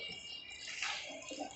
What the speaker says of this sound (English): I am going to pour this water in this cylindrical.